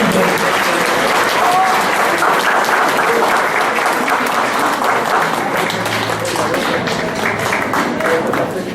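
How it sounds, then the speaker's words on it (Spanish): An audience at a psychology congress keynote claps steadily and loudly throughout, a dense sustained round of applause. "Le damos un fuerte aplauso y le entregamos este reconocimiento."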